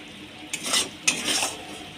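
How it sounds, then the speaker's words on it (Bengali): Fried potatoes tipped into a pan of paneer curry, giving two quick bursts of sizzle and scraping over a low frying hiss. "এবার ওর মধ্যে ভেজে রাখা আলুগুলো দিয়ে দেব।"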